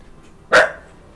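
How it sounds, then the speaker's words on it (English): A pet dog gives one sharp, loud bark close by indoors, then silence. "I was trying to figure out why he was barking"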